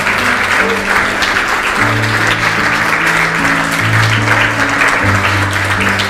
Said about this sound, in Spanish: Alguien puede dar un aplauso al Señor en agradecimiento.